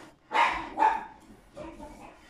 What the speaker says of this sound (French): Alors, désolé pour les chiens.